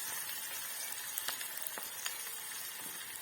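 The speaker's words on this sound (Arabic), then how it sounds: "تحمر شويه واحط تومه مدقوق معاها ملح وكزبره" Garlic frying in a pan of oil for a lentil and vegetable soup gives a steady, soft sizzle with a few faint crackles and pops over a continuous hiss.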